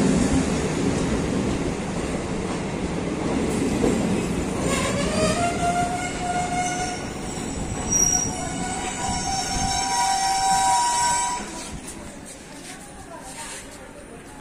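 A passenger train running from Forbesganj to Darbhanga passes nearby, with rumbling wheels, clattering carriages and tonal wheel squeal rising midway before fading, alongside background voices.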